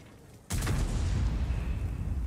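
A single heavy tank cannon blast from a Manticore tank in a video game erupts abruptly, followed by a sustained low rumbling roar that carries on loudly without fading.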